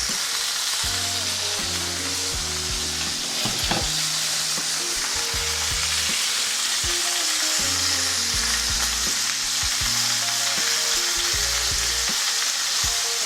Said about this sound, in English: And I literally did throw that in, because this pan is piping hot.